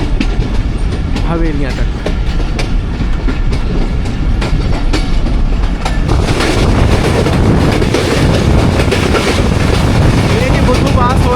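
The 1UP Khyber Mail passenger train runs at high speed through a railway station between Rawalpindi and Attock, with a loud, close, continuous rumble and rattle of wagons building steadily while someone speaks briefly over it.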